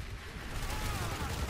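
Gunfire in the Planetside 2 video game, a dense steady stream of rapid shots and battle noise filling the whole moment at moderate loudness, with no voices over it.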